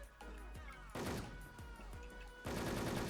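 Automatic gunfire spraying in a shooter video game, several loud rapid bursts with short gaps between them, close and dense, and the last burst is the heaviest.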